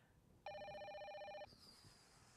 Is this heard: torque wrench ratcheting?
no